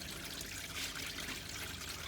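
Water trickles steadily out of the engine of a 1984 Chevy Blazer, a soft continuous splashing dribble heard close up and alone.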